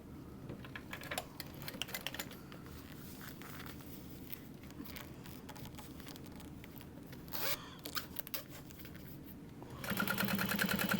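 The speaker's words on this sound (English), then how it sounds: "I'm only going to top stitch through my exterior fabric" A sewing machine top stitches through the exterior fabric of a small pouch, a faint, rapid mechanical patter running steadily, briefly interrupted, then growing louder and denser near the end, with no talking.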